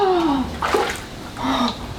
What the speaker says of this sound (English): here's hot onsen water.